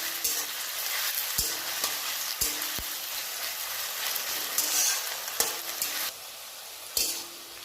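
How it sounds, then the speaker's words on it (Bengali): Onions fry in a pan with a steady soft sizzle while a spatula scrapes and knocks against the metal every second or so. The sound is close and moderately quiet, with no voices. "পেঁয়াজটা যতক্ষণ না ভাজা ভাজা হচ্ছে ততক্ষণ পর্যন্ত নাড়তে থাকবো।"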